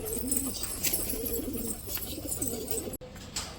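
Pigeons coo softly and repeatedly in low, throaty murmurs, several birds overlapping in a steady close chorus.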